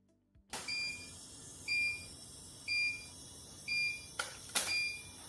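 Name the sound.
steam sterilizer autoclave venting steam and beeping at cycle end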